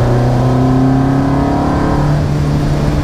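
A 1750 cc Alfa Romeo 1750 GTV engine pulls along a road, heard from close by as a loud, steady drone whose pitch shifts slightly as the revs change.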